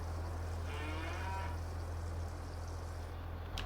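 In Farming Simulator 22, a cow gives one drawn-out moo from a barn setting over a steady low hum, faint and somewhat distant, with a small clink near the end.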